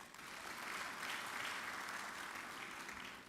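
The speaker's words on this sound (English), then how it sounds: "Once again, another round of applause." An audience at a Lagos Business School executive education graduation ceremony gives a sustained round of applause, even and continuous but faint and distant.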